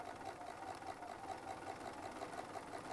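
A sewing machine runs steadily while stitching around a fabric medallion, giving a soft, even, continuous mechanical hum at low volume with no talking.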